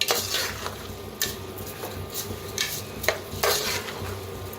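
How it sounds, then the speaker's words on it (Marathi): Salt dry-roasting in a pan, stirred with a spoon while making salted chillies: a steady, close scraping and grinding with occasional metallic clinks against the pan, and no voices. "जरा आता भाजून घेऊया मिठाला, मग मिक्स करूया सगळं."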